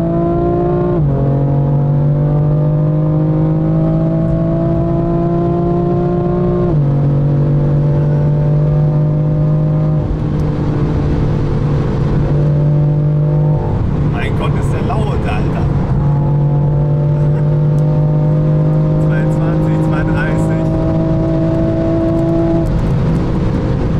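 A BMW M car with a V8 and a performance exhaust drones loudly from inside the cabin, rising and dropping in pitch through several accelerations and gear changes with a few sharp crackles, while people talk over it.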